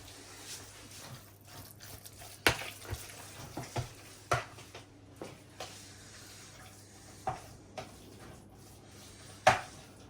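A heaping tablespoon of fig jam is mixed into sausage roll filling in a bowl, giving quiet, scattered sticky squelches and sharp clicks of the spoon at irregular intervals, with no talking.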